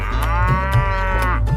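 A cow gives a single long, loud moo close by, sustained for over a second with no other sounds around it.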